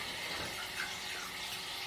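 Water pours steadily from a tap into an Asian water monitor's indoor enclosure pool, a close, even hiss and splash with no pauses or voices.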